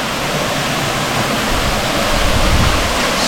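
Secret waterfall in Bali roaring close by, a loud, unbroken broadband rush of falling water that swells slightly toward the end, with no voices.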